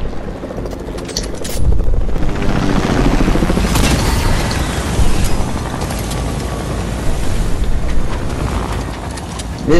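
Helicopter in a shooter video game, a loud, close rotor roar with heavy low rumble and bursts of explosions and gunfire, continuous throughout.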